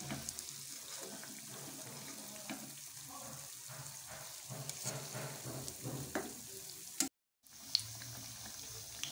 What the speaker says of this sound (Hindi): आपने इसको मीडियम फ्लेम पे फ्राई करना है।